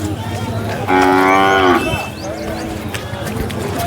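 A bull gives one loud, drawn-out moo nearby at a cattle market, lasting about a second, over a steady background of outdoor noise and faint activity.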